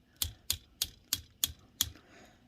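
Ratchet joints on an Optimus Prime action figure click six times in a quick, even series, sharp and close, each snap standing alone with no talk over them.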